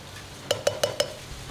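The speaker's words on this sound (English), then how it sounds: "Stir that up." A spoon stirring coconut milk into a sweet potato lentil stew, with four evenly spaced clinks against the pot over a quiet background.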